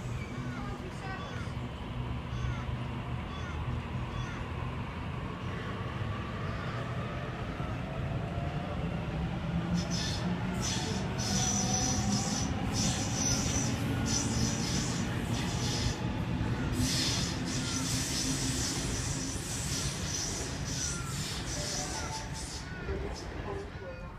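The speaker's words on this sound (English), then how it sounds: "a Waratah departing platform 3" A Sydney Trains Waratah electric train pulls away from platform 3 at Gordon station on a Hornsby service, its motors whining in rising tones over a long rolling rumble, with an announcement voice speaking over it.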